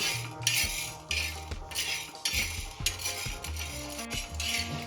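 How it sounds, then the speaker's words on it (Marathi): Chana dal is stirred as it dry-roasts on a griddle, a metal spatula scraping and rattling the grains in repeated bursts of close, rhythmic scratching. "हरभऱ्याची डाळ जळणार नाही याची काळजी घ्यायची व्यवस्थित हलवून हलवून भाजून घ्यायची"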